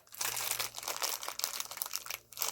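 A plastic bag being opened crinkles and rustles, steady and close, with a continuous faint low hum underneath.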